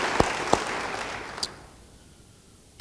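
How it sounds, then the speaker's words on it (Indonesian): A church congregation claps, a few sharp hand claps standing out at first before the sound thins and fades away to quiet near the end. "Beri tepuk tangan bagi dia."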